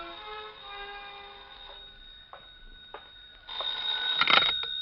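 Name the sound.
telephone ringing, radio drama sound effect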